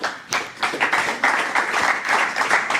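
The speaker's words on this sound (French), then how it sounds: "On applaudit pour Madame Yola." An audience applauds a guest at a French-language interview event on behavioral coaching, with steady, dense clapping that runs through the whole few seconds at close range.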